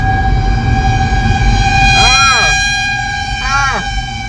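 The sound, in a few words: siren wailing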